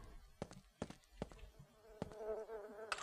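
Flies buzzing around a corpse in the video game Quake 2, a faint, steady insect drone punctuated by several sharp game clicks and thuds.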